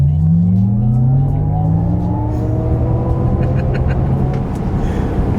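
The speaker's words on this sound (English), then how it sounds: "let's see how quickly we can get our new 2026 Vistiq here up to speed" A 2026 Cadillac Vistiq electric SUV accelerates hard from a standstill, rising whine tones climbing steadily over a loud rumbling road and wind roar, continuous and close from inside the cabin.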